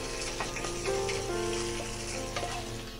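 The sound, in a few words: green chillies and garlic cloves frying in oil in a pan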